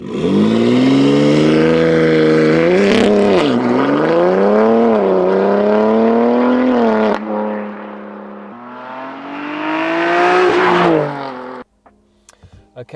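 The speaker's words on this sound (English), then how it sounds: "we'll do some drive-bys, do some flybys so you can actually hear it in motion" A BMW M3 G81 fitted with a custom exhaust, stage 2 tuned, passes close by at full throttle, its loud rising engine roar climbing and dipping through gear changes before cutting off and fading.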